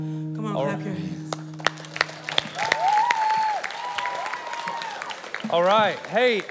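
A worship congregation claps along as a song about Jireh plays, with scattered sharp claps over sustained music and singing that swell again near the end.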